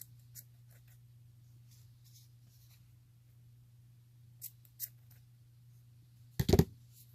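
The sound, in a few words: scissors trimming paper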